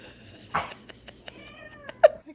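A cat meows clearly a couple of times near a baby during gentle play, the last cry loudest, with soft household noise and brief sounds between.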